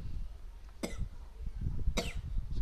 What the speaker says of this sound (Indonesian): Sudah saya batuk.